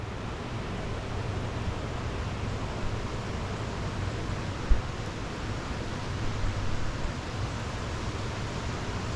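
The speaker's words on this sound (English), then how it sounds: "fast moving water." Fast-moving water of a trout stream rushes in a continuous broadband hiss, steady and close, with one brief knock partway through and no talking.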